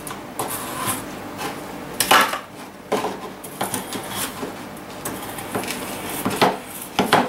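A knife chopping frozen bananas into chunks on a board, with irregular hard knocks and clacks, some louder than others, spaced through the clip and heard up close without talk.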